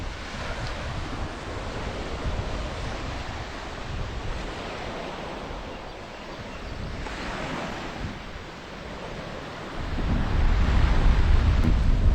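Ocean waves wash along the Prince Edward Island shoreline in a continuous broad rush, swelling louder near the end, with wind buffeting the microphone and no voices.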